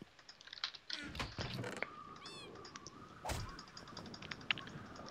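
A cat in the video game Minecraft lets out a single short, quiet meow amid keyboard clicks and soft background chatter.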